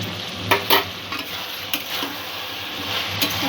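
Spices for a Bombay duck (loitta) fish curry sizzle in a pan as they are stirred, making a steady close fry noise broken by several sharp spoon scrapes and knocks.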